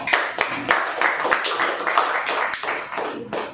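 A church congregation at an Easter Sunday evening service claps, a close, dense run of overlapping handclaps with sharp, irregular taps throughout.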